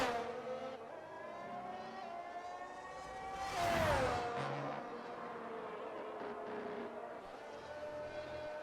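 A race car engine in a racing video game screams in a steady, high-revving drone, with a louder pass-by surge around the middle before it settles back to a continuous whine.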